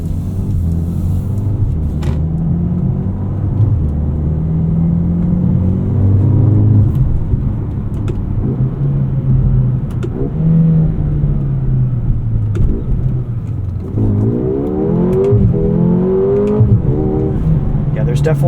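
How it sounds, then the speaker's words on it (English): A 2024 Mercedes-AMG GLA 35 engine and exhaust while driving, a steady low drone that swells and dips as the revs change, with a synthetic-sounding note, heard throughout beneath ongoing talk from inside the cabin. "Definitely a synthetic sound to that engine note."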